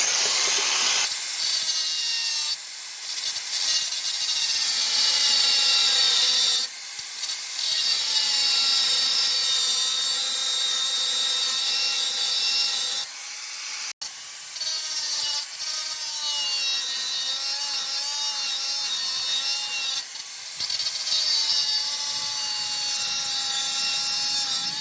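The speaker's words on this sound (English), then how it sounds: "remember when you're using your mini grinder, always safety first" Mini grinder cutting through a truck exhaust pipe, a loud continuous high-pitched metallic whine and grinding that runs nearly unbroken for about 25 seconds, with a few brief dips as the cut pauses.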